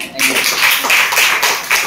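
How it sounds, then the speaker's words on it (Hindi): An audience at a youth team meeting in Ballabhgarh claps together in a short, loud burst of close, rhythmic hand claps. "एक बार ताली हो जाए"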